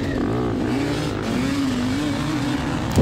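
Off-road racing motorcycles roar at the start of round 5 of the Mag-7 Buckhorn GP, with a dense, loud engine drone and one rising rev that climbs steadily, continuous throughout.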